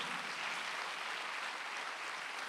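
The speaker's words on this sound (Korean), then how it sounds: "박수 한번 해주세요" Church congregation at a Sunday worship service applauds together, a steady, even wash of many hands clapping, soft and somewhat distant throughout.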